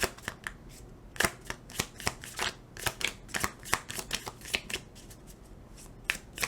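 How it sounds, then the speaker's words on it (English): A new deck of tarot cards is shuffled by hand in quick, irregular riffles and slaps, close up and crisp, with no one talking. "This is a new deck, so I'm a little not used to shuffling it."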